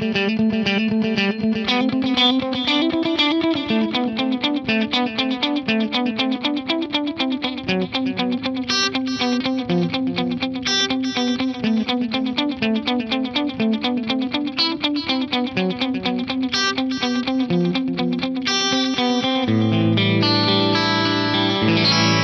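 Electric guitar runs through a dual stereo delay set to a dotted-eighth feel, a continuous cascade of picked notes and repeating echoes filling the space, loud and close, with no talking.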